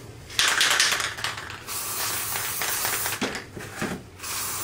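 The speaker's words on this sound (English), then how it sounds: "We're going to spray paint it white" Spray paint hissing from an aerosol can as a wooden cross is coated white, close bursts of varying length separated by short gaps.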